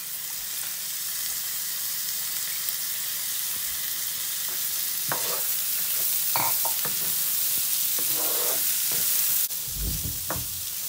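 Celery, carrots, curry leaves and soaked chana and masoor lentils frying in a pot for mulligatawny soup, a constant close hissing sizzle with scattered scrapes and clinks of a spoon stirring, no voices.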